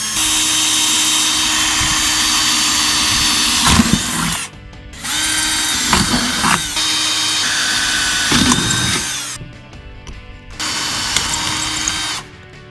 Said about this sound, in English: use a 3/16 drill bit right here, and you're gonna go ahead, drill in, make a hole